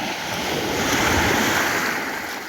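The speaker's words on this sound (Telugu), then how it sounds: "ఇదిగా వస్తున్నాయి అలలు." Ocean surf at Sur beach in Oman rolls in as a loud, continuous wash of crashing waves, swelling slightly in the middle, with wind blowing across the microphone and no voices.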